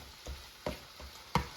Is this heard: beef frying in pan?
yes